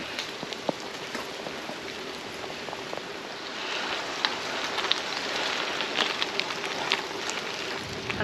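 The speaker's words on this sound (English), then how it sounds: "I am getting a bit of shelter from the trees, from the pouring rain." Pouring rain falls on gravel roads and trees in the Brecon Beacons, a steady, close hiss with scattered sharper drops and patters running unbroken throughout.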